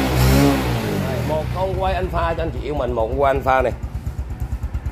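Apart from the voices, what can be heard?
motorcycle engine being started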